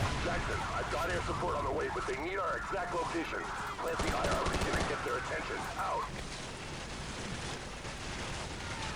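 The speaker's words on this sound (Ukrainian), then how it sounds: "Так, хто там іще стріляє?" Gunfire in Call of Duty 4: Modern Warfare crackles in sharp bursts through the middle of the stretch, moderately loud, while someone talks over the shooting.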